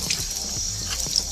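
Tap water splashes as a leaking faucet part, freed of deposits with white vinegar, is rinsed under the stream, a close, continuous gurgling spatter with small bumps of handling.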